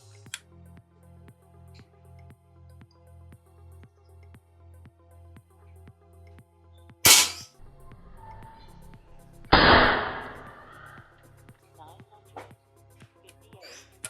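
Two sharp, loud shots from a Predator Tactical OD38 PCP air rifle, around 960 fps, a few seconds apart over a steady ticking background, each a crisp crack with a brief tail.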